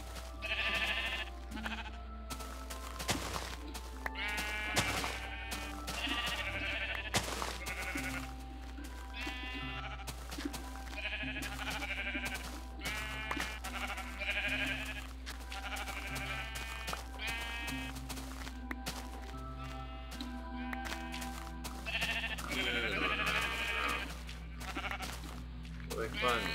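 A flock of blocky Minecraft 1.2.5 sheep keeps up frequent overlapping bleats while being sheared, the wavering cries steady and fairly close over a constant low background drone, with a voice speaking at times.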